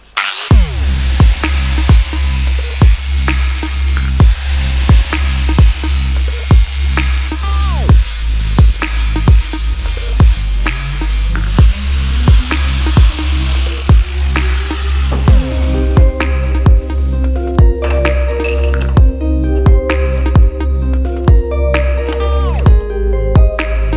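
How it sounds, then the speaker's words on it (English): Flap wheel on an angle grinder chamfering the ends of a steel tube for DIY coilovers on a Corolla KE10, a loud, steady, close grinding whine with a regular rhythmic pulse that runs the whole time and shifts in tone partway through. "I'm going to chamfer both ends on this tube. And for chamfering I'm going to use a flap wheel."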